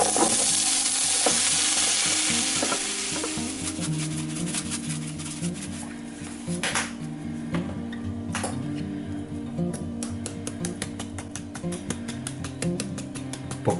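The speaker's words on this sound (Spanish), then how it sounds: "Ponemos a freír un ratito los ajos y el laurel. Echamos la mitad de la cebolla." Garlic, bay leaf and onion fry in a pan, giving a loud, close, continuous sizzle with occasional stirring scrapes and clicks that eases slightly as it goes on.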